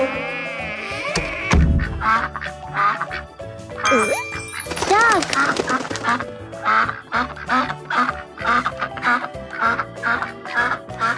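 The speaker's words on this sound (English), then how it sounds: "quack, quack, quack." A cartoon duck gives a series of quacks in a children's animal song, the calls repeating rhythmically over music and voices, with a bell-like ding and brief buzzy sounds near the start.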